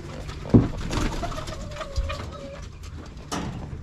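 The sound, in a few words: pigeons cooing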